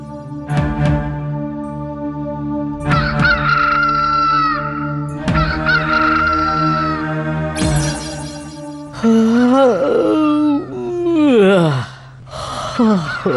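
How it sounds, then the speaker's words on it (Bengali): In a morning scene, a rooster crows loudly and close in several long, strained calls, one after another, with a few shorter squawking cries near the end. "মোরগটা ঠিক সময় একেবারে ঘুম ভাঙিয়ে দিয়েছে।"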